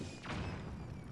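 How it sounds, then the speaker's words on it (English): One explosion in the video game Zelda: Tears of the Kingdom gives a muffled thump that booms once and then fades into a low rumble, fairly quiet overall. "Nope, just a regular explosion."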